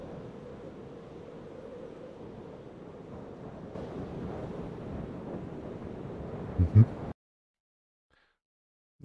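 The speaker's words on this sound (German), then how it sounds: "The haunting cries of the wind." Game wind in Trials of Mana blows as a steady, hollow rush that swells partway through, joined by a couple of low thumps before cutting off abruptly into silence.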